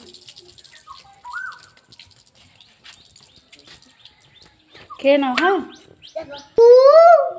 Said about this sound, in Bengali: বেশ ভালো লাগছে পাখির ডাকটা